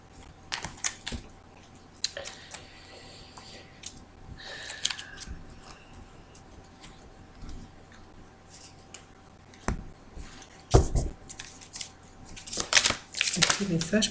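A tarot deck being cut and shuffled, soft clicking and riffling taps in short irregular bursts, close and quiet, with someone speaking between them.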